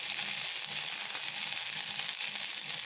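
Almonds, cashews and raisins frying in hot ghee, a dense continuous sizzle close up with a faint hint of stirring, no voices.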